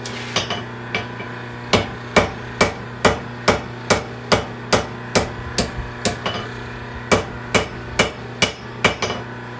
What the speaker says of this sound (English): final hits to get this blade looking a little bit more to what I'm thinking